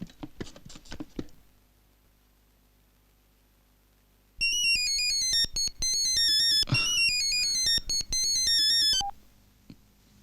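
In a Malayalam film scene, a phone plays a loud, repeating electronic ringtone melody for several seconds during an outgoing call, preceded by faint tapping and followed by quiet.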